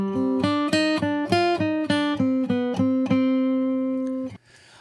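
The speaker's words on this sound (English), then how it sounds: "I have just dragged in a guitar loop in my session." A looped electric guitar phrase of plucked notes in a steady rhythm, ending on a held note that fades into a brief wash of reverb.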